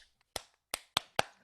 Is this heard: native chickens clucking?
no